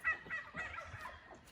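Chickens and turkeys on a farm let out a few close honking, gobbling calls in quick succession that fade into softer clucks.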